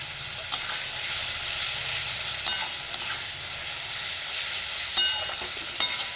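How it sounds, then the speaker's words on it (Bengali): Ginger and garlic paste frying in a pan for mutton curry, a steady close sizzle with a few sharp clicks of a spoon scraping and stirring, no voices. "এবার আমি একে একে আদা পেস্ট এবং রসুনের পেস্ট দিয়ে দিচ্ছি"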